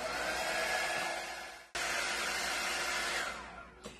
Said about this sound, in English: I'm going to give it a quick little dry with my drying tool